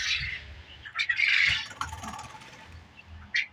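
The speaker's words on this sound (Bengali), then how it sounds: "দেখুন পাখিগুলো ডিম পেরেছে, আজকে অনেক ডিম পারছে।" Japanese quail chirping at a poultry hatchery, giving short, bright, high chirps in a few scattered bursts against a quiet, low background.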